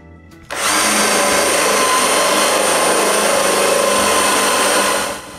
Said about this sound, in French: Je perce donc un trou de la grosseur de la tête des vis.